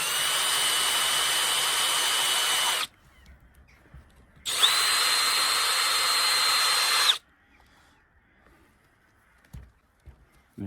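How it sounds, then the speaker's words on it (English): A power drill fitted with a Forstner bit bores into a turnip for a Halloween lantern, two loud sustained whirring runs of a few seconds each separated by near silence, with small handling knocks afterward. "if you just direct the Forstner bit into the middle"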